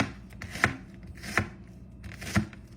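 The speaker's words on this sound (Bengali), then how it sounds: "পেঁয়াজটা কেটে রাখি" An onion being chopped on a board during home cooking, three separate knife strikes spaced unevenly, close and fairly crisp in a quiet room.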